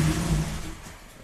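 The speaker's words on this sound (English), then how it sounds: "Engine start, stop." A Volkswagen CC with a start-stall fault briefly catches and runs with a low engine rumble, then fades and dies out within about a second.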